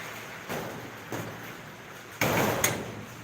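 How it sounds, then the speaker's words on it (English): Indoor door sounds as a door is shut, with a few soft knocks and slides, then a louder closing thud near the end, in a quiet room without speech. "shut the door"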